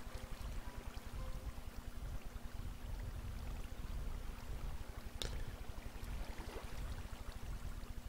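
Steady flowing water from streams in Minecraft runs as a constant, fairly quiet rushing wash throughout, with a couple of faint clicks but no talk.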